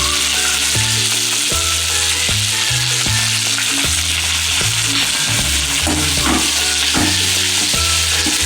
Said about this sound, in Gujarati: આ પાન આપણે સરગવાના એડ કરી દઈશું